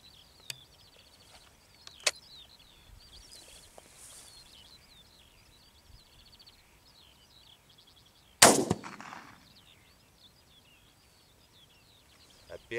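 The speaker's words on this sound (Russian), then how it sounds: "стреляем сначала пулей. Расстояние 35 метров. Делаю сразу два выстрела." A single loud shotgun slug shot from a TOZ-34 cracks sharply partway through at 35 metres, echoing briefly, with a few faint knocks and quiet outdoor ambience around it.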